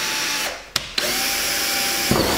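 A cordless power drill whirs loudly and steadily up close while a water tank is being fitted during a bus-to-motorhome conversion, with a brief pause and a couple of clicks as the trigger is released and pressed again.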